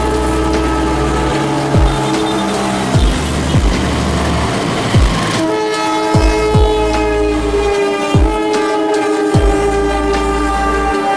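A train rolls past in Surabaya, a steady rumble and clatter with rhythmic wheel thumps over rail joints, while a loud sustained horn sounds through the first half and tonal hum carries on after. No voices.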